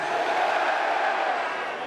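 A large crowd at a Turkish election rally shouting together, a dense sustained roar of voices that holds steady then eases slightly toward the end.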